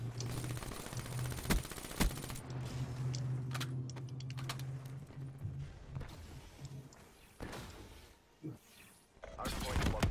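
Rapid gunfire in Call of Duty Black Ops 3 multiplayer Hardpoint on the Stronghold map, sharp rattling bursts and scattered single shots mixed with game effects, fairly quiet, with players talking over it.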